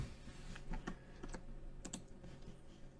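A computer keyboard clicks softly as a folder name is typed, scattered individual keystrokes and small bursts spread over a few seconds, near but fairly quiet, with no voices.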